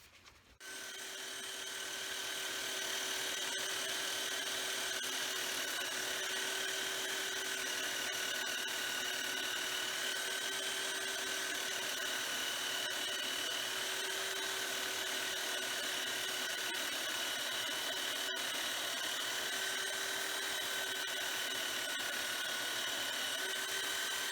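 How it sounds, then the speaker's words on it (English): A belt sander grinds steadily against a mini-lug rubber sole on dress boots, a loud continuous whine that starts abruptly and holds without pause. "I'm going to take it to the belt sander to finish it off."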